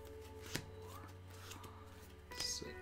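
Playing cards shuffled at a tabletop game of Eminent Domain, with two quick riffling bursts close by, one early and one near the end, over a steady low hum and faint talk.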